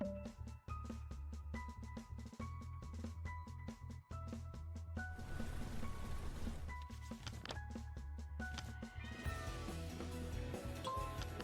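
A cartoonish cat meows several times inside a video game over cheerful, bouncy game music. The tonal mews are repeated and clear, with shimmering chimes rising near the end.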